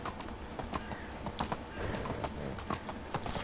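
Horse hooves clip-clop steadily in the Medieval Dynasty video game, a close, brisk rhythmic trot of repeated hoof strikes with an occasional whinny, no talking over it.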